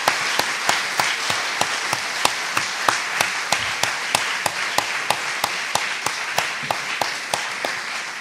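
An audience after a talk at an evening Bible study event claps in a steady, rhythmic unison beat, sharp regular claps over a dense bed of applause, fairly close and loud with no talk.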